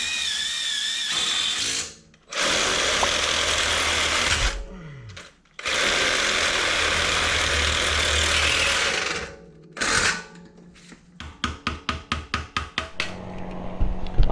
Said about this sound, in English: I'm gonna drill out these other holes